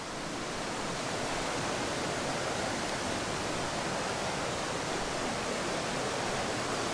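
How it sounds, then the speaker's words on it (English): Small waterfall pouring down between two rocks and through a chain of pools at Ladies Bath Falls on Mount Buffalo, in light rain; a steady, close, broadband rush of water holds constant throughout with no voices. "Quite a pretty little waterfall coming down between the two rocks there and working its way through a number of pools"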